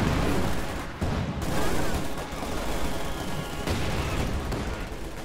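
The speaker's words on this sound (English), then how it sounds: "Rifle grenades is going to clear out that Maxim machine gun." Rifle grenades explode on a Maxim machine-gun position in a video game battle, within a loud, unbroken din of gunfire and blasts that fills the whole stretch, with no talking.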